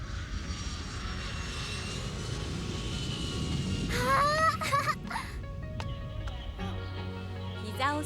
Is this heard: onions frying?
no